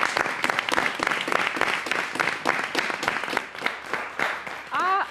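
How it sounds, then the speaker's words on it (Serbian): Studio audience on a talk show claps steadily and loudly throughout, a dense wash of many hands that stays even before a brief swell of cheering near the end. "Još jedan aplauz"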